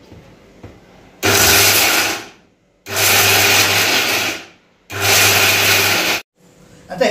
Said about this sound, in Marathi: आता हे आपण मिक्सरला वाटून घेऊया।